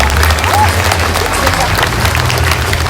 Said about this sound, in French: Et c'est parfait pour Karim, on peut l'applaudir.